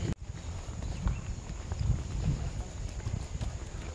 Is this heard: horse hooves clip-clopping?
yes